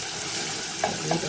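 Garlic frying in a pot for Egyptian koshari gives off a steady, soft sizzle with a couple of brief stirring knocks near the end.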